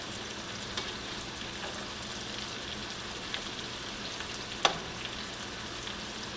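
Mussels sizzle as they go into a hot pan of seafood pasta, a steady bed of frying crackle and hiss with a few small pops and one sharper crackle, close up and with no talking.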